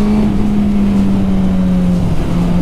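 A Suzuki GSX-R sport motorcycle engine drones loud and close at a steady low pitch while being ridden slowly, its tone holding constant with a slight downward drift.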